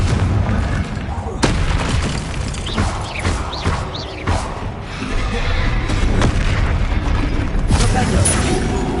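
Confringo blasting-curse explosions in a Harry Potter video game, a run of loud booming blasts and crackling impacts over a dense rumbling game background, several bursts spaced across the stretch.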